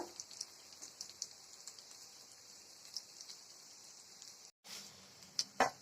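Potato snacks frying in hot oil, a steady soft sizzle with scattered crackles and pops, fairly quiet and close, briefly cutting out before resuming with a few sharper spatters.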